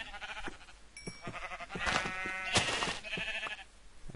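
Several Minecraft sheep bleat in quick succession, nasal wavering calls overlapping at close range with some game sound effects between them and no talking.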